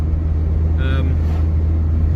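Mk2 Golf GTI 16v engine in second gear, a steady deep rumbling drone heard from inside the car, constant and fairly loud throughout with a brief higher tone partway.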